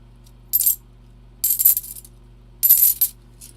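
Half dollar coins drop and clink in three separate bright bursts with short quiet gaps between them, close and clear over a low steady hum.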